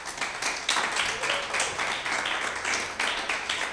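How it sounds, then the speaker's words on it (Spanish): A church congregation claps together during a sermon, brisk irregular handclaps blending into a lively burst of applause that holds steady across a few seconds. "dale un aplauso a Jesús"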